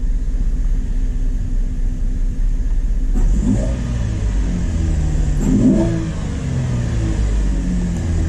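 A Chevrolet car engine revs hard in race mode with an electronic throttle controller, a steady loud rumble swelling into two sharp acceleration surges, close and with no talking.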